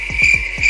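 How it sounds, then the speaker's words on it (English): Cricket chirping sound effect, a steady high trill with four quick pulsed chirps repeating at an even rhythm, close and clear with no voices. "Cricket."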